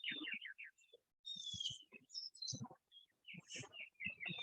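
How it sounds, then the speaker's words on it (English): House wrens, Carolina wrens and other backyard birds including blue jays and a mockingbird call and sing outdoors, with repeated bright chirps and trilled phrases overlapping in quick bursts, moderately near and fairly quiet. "House wrens are calling."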